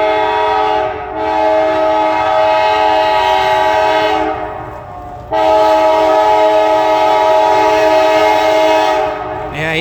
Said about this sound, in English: being that it's a freight train